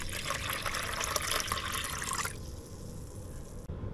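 Tap water pours into a container to start a brine for smoking Pacific jack mackerel, a loud broadband splashing rush for about two seconds that then settles into a quieter steady trickle.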